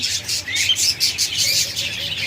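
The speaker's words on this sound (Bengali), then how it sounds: "অসংখ্য পরিমাণ পাখি রয়েছে ডিম সহ বাচ্চা সহ অসংখ্য পরিমাণ পাখি রয়েছে" Caged lovebirds, Java sparrows and budgies chirping together, a busy, close chorus of rapid high tweets and calls that never pauses.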